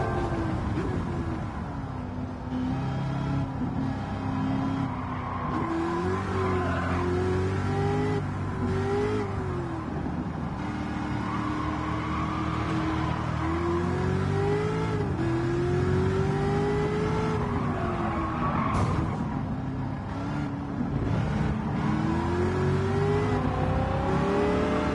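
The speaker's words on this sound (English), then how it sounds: "That car sounds fucking amazing." A race car engine in the Gran Turismo 7 video game revs and climbs through gears with a steady, loud drone, rising and falling pitch as the car accelerates and shifts, with no talking.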